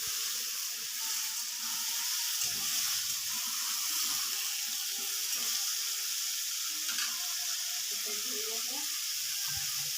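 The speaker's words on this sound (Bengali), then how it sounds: "এখন আমি আলুগুলো তেলে ভালো করে ভেজে নেবো।" Potatoes fry in hot oil with a continuous loud, hissing sizzle throughout, while a person speaks faintly in the background.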